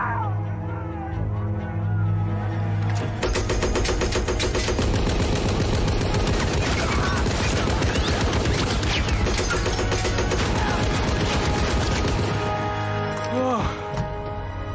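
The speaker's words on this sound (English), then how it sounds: "Good shooting, kid. Keep stacking them up." Gunfire from the war movie Fury: sustained machine-gun bursts and rapid shots over rumbling engine noise, loud and dense for most of the stretch, fading near the end.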